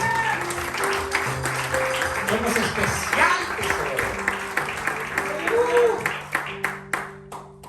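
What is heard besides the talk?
congregation applauding the Lord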